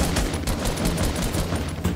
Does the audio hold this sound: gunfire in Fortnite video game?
yes